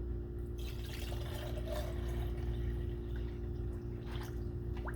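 Intercooler fluid is poured into the cooling system of a 2013 Mercedes SL550, a faint trickle and gurgle of liquid heard over a steady low hum from the running engine.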